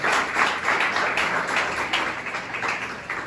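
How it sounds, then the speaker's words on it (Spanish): A church congregation claps for the Lord during a morning service, a broad, steady wash of many hands applauding together, fairly loud and continuous throughout with no voices standing out. "Dele ese fuerte aplauso al Señor en esta mañana."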